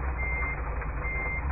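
Steady, fast reversing beeps from a truck backing up in a driving video game, with a low engine rumble underneath, loud and continuous throughout.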